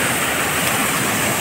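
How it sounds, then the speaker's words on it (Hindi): Dense, continuous roar of the Daporijo waterfall, loud and close, a steady rushing hiss with no pauses or voices. "देखो फाइनली हम झरना पहुंच गया है"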